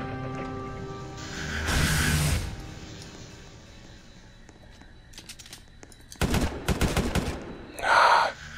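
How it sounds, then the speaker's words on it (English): Gunfire in the Roblox game Containment Breach comes in short, loud volleys, one early burst and a cluster of rapid shots later, separated by quieter ambient game noise. "Shots being fired, which means I need to go that way."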